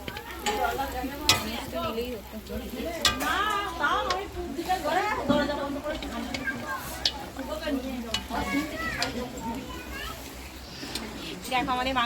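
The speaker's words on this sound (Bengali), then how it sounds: "দেখো আমাদের মাংস কষানো হয়ে গেছে" Meat for chicken biryani is stirred and fried in a kadai, with a steady sizzle and repeated scraping under constant chatter from adults and children.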